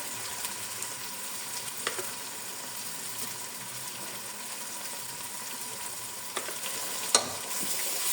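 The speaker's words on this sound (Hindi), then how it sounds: "तो अब इसमें डालेंगे हम दही। दही इसमें मैं डालूंगा 4 टेबल स्पून।" Yogurt going into a frying tomato-onion masala for an eggplant and potato curry, with a steady close sizzle of oil and soft stirring scrapes, plus a few sharper clicks of a spoon against the pan.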